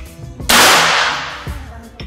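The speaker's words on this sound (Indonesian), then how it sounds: "Dan kita akan coba untuk tembakan yang kedua." A Ghost Warrior Regulator air rifle fires one sharp, loud shot at a target, a sudden burst that trails off over about a second, with a faint knock a moment later.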